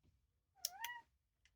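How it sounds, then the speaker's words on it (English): A house cat gives a single clear meow, a short rising call near the microphone, followed by a faint brief chirp in an otherwise quiet room. "You also have a cat who will meow in the background to make her presence heard."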